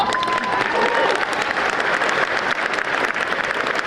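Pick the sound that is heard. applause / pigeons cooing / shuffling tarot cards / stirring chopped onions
applause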